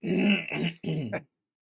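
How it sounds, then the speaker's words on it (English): A person clears their throat in a few quick, rough bursts, close up, then silence. "You want to clear your throat real quick?"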